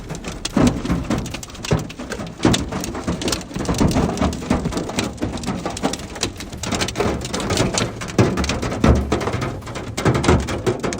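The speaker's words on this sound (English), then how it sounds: "Violent storms rolled in with hail pounding Colorado Springs and turning the entire scene chaotic." Hail pounds down in a violent storm in Colorado Springs, a dense, continuous clatter of hard impacts on surfaces, loud and close, with no voices.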